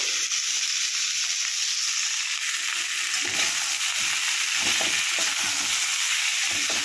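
Cauliflower florets frying in a pan for a Bengali cauliflower korma, a loud continuous sizzle close by with occasional stirring sounds and no talking.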